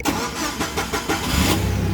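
A forklift engine cranks with a few rhythmic starter pulses, then catches and settles into a steady low idle; the sound is close and fairly loud, with no talk.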